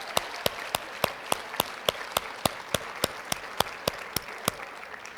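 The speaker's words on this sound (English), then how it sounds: "a big round of applause" An audience gives a round of applause, heard as steady, evenly spaced claps that stay moderately quiet and continue without a break.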